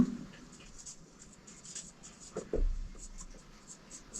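Pen or chalk writing out a calculus solution during a lecture on Rolle's theorem, a few faint scratching strokes with a brief louder thump near the middle, no speech.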